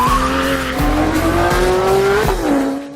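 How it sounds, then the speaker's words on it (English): Porsche 911 GT2 RS with its turbo engine, loud and close, a sustained rising engine whine with a squealing, skidding edge and periodic low thumps, easing off toward the end. "you're gonna generate a really typical Porsche turbo sound."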